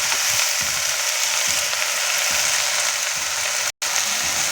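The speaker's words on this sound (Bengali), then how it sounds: "এই যে পাট শাকটা দিয়ে দেওয়া হলো, এবার ভাজা হচ্ছে" Jute leaves fry in a pan with a loud, close, continuous hiss and sizzle, faint stirring scrapes underneath and a split-second dropout near the end; nobody speaks.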